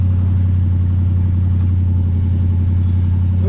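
The engine of a Luhrs 28 boat runs steadily while warming up during an engine flush, a loud, continuous low drone that holds an even level throughout with no talk.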